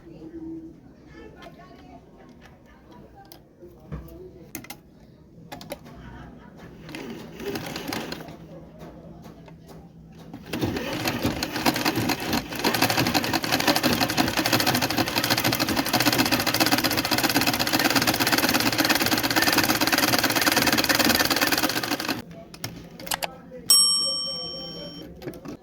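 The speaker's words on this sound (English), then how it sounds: "and then start sewing." A home sewing machine stitches a seam with fresh thread, its loud, steady mechanical whir running continuously for about twelve seconds after quieter handling noises and talk.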